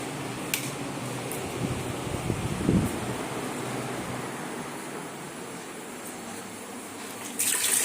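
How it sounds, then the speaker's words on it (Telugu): Two tender leaves are washed under running tap water, a steady hiss of flowing water with brief splashes and handling noises. "శుభ్రంగా కడుక్కున్నాను."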